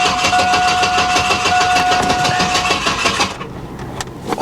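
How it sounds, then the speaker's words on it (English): An LS7-swapped Toyota Supra at a salvage auction cranks over loudly and continuously for about three seconds with a rough, churning starter drone, then drops away. "All right, let's see what it does. I expect it'll crank."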